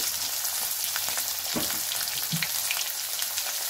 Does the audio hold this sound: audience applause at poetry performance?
no